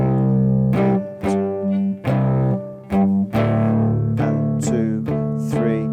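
A cigar box guitar flatpicks a classic rock riff, with distorted, ringing notes and sharp offbeat strums that come in a steady, repeating rhythm, loud and close with no voice over them.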